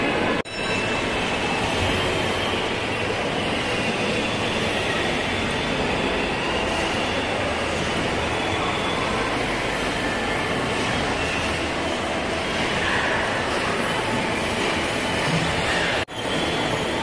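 Steady rumbling roar of a moving train at Genting Highlands with rhythmic clatter of wheels on rails, continuous and close, ending with a brief drop.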